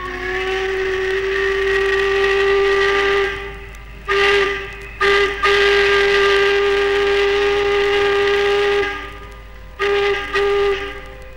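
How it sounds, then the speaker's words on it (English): A loud, steady tugboat steam whistle, a single organ pipe with a rich, organ-like chord, sounding in long blasts separated by brief breaks. "Here is her single organ pipe whistle."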